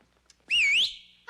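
A single close, clear two-tone whistle rises and falls over about half a second, sliding into a steady held note that tapers off, with a quiet room otherwise.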